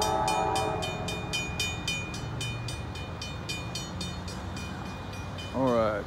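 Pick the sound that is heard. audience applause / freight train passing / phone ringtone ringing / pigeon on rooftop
freight train passing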